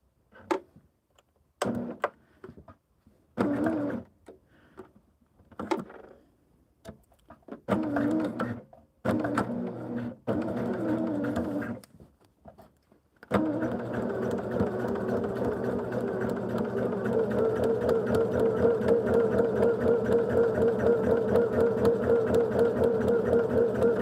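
A sewing machine stitches a short line of quilt block seams, first in scattered bursts with pauses and handling noises, then running steadily and rhythmically for about ten seconds, close and moderately loud.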